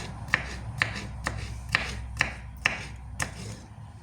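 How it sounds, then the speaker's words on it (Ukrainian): Knife cutting a cucumber into small pieces on a board, six or seven sharp, evenly spaced chops close by with no talk. "Тепер беремо огірочок і ріжемо теж такими невеличкими"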